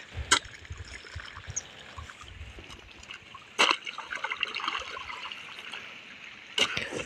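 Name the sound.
irrigation water flowing into field channel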